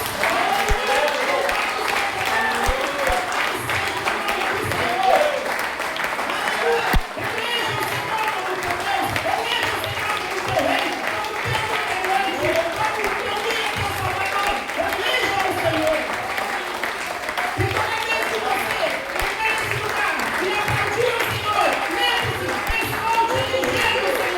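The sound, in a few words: church congregation applauding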